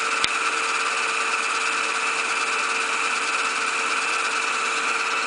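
A Pittman electric motor runs steadily at around a thousand RPM, giving a constant close whine with a smooth even hum and no changes in speed, preceded by a single brief click at the start.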